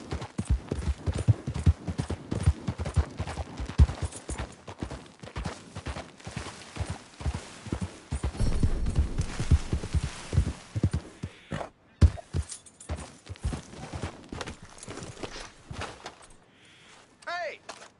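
Horse galloping in the video game Red Dead Redemption 2, a rapid steady clip-clop of hooves close up and loud, with a brief break near the end, while a voice talks over it.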